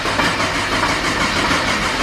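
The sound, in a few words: car engine cranking on old battery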